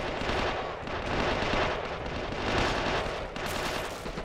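Dense, continuous gunfire rages through a Men of War battle with the Killzone Helghast mod, volleys and machine-gun bursts overlapping steadily at high loudness with no gaps or talk.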